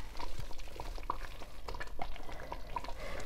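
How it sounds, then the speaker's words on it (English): Green amaranth leaves are stirred into a simmering peanut sauce, giving a low bubbling simmer with soft wet stirring and scraping sounds throughout, moderately quiet and with no talk. "It's time to go in with my green amaranth."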